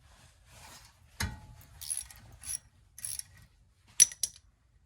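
A ratchet loosens a front brake caliper bolt on a 2013 Buick Verano, giving a few short clicking bursts with pauses between, one sharper metallic snap near the start and another toward the end, fairly close and with no talking.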